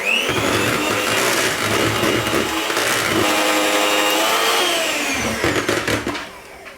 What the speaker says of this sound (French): je vais donc finir de fouetter